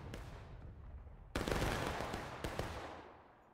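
Musket volleys ring out in the American Civil War battle game War of Rights, a farmland map with 300 players: sharp distant cracks, two heavy volleys with rolling echoes that trail off.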